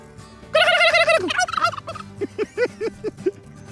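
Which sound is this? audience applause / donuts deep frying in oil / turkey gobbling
turkey gobbling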